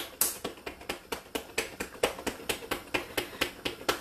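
A jar of flour and liquid for thickening potato soup is shaken hard, giving a steady run of quick, close rattling knocks, about five per second, with no voices.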